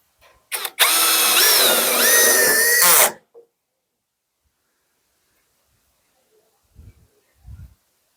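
A power drill drives screws while a safety bolt is fitted to a door, running in one loud continuous burst with rising and falling whine before stopping, followed by a few faint knocks.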